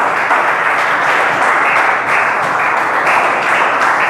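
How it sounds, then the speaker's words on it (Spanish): A church congregation applauds continuously, many hands clapping in a thick, steady wash of sound that fills the room. "Denle un aplauso al Señor esta mañana."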